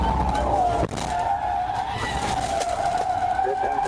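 Car in a high-speed police chase on a Florida highway, reaching up to 140 mph and rammed from the rear and side, with a steady tire skid or whine running throughout and brief impact-like thumps.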